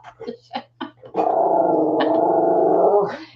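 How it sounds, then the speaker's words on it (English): A dog growls at a hummingbird outside the window, a sustained close, loud rumbling growl after a few short yips, without any speech. "You're going to growl at the hummingbird?"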